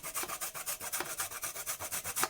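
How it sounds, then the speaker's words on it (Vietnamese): Lemon peel rubbed against a grater over cake batter, a steady run of rhythmic scraping strokes, about a dozen quick passes, close and clear with no talking. "Mình trộn đều bột lại rồi thì mình sẽ mài một tí xíu vỏ chanh vô."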